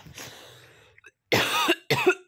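A person with a cold gives a short throat-clearing sound, then two sharp, close coughs in quick succession in a quiet room.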